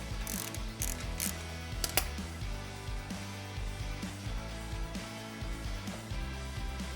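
Fast, rhythmic clicking from a ratchet or driver on a Toyota 4Runner runs steadily and close as a bolt is turned into threads to clear debris, with a few sharper metallic clicks near the start.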